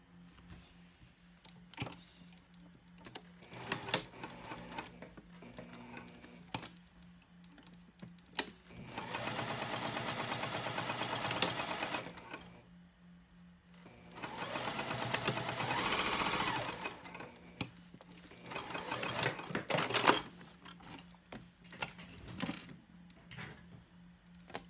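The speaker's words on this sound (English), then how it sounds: "I'm going to top stitch just across the top here" A sewing machine topstitches straight across the top of a bifold wallet, running in two steady, close bursts of rapid stitching with quiet pauses between them.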